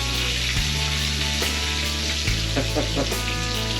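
Bacon frying in a pan gives a steady crackling sizzle with low hum and a few sharp spits and pops scattered throughout, heard up close without speech.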